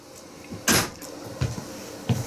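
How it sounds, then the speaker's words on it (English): A door is shut with a single solid thud that rises above a steady background hiss, followed by a few softer knocks. "shut the door"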